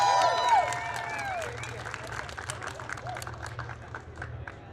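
Audience at a Black Panther: Wakanda Forever celebration at Avengers Campus clapping for a young volunteer, a moderate, fairly distant patter of applause that gradually thins out.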